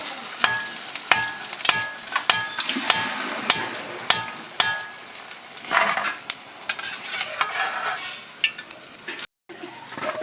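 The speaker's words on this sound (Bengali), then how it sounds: "চালগুলো এইভাবে করে লাল করে ভেজে নেব" Rice grains frying in a pan as a spoon stirs them, repeated sharp scraping and rattling strokes over a continuous crackling sizzle, close and fairly loud, no talking.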